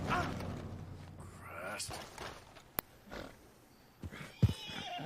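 Horses neighing in The Witcher 3 on the Isle of Mists: a whinny at the start, then scattered clatters and a sharp snap, with someone talking over much of it.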